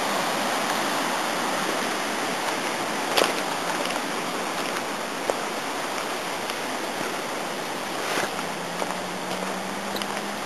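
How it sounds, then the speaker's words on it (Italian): A river rushes steadily close by, a dense, continuous roar of flowing water with no voices, holding even and loud throughout. "lì dietro c'è il fiume, quello che vi ho fatto vedere adesso"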